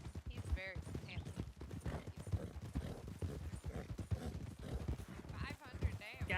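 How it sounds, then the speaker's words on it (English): Steady clip-clopping hooves of a horse in a ranch roleplay video game, a rhythmic run of close, distinct hoofbeats heard beneath constant conversation between players. "I like your new horse"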